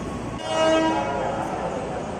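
A JR 205 KRL commuter electric train pulls out from platform 8 at Jatinegara station, Jakarta, with a steady rumble and a brief horn-like tone amid station bustle and nearby talk.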